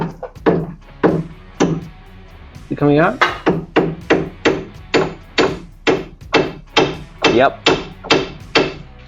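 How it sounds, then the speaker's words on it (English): Repeated metal hammer blows driving a front suspension bolt out of a Triumph TR7, a steady series of sharp, loud strikes close by, with brief talk between people early on. "I'm hammering out the bolt."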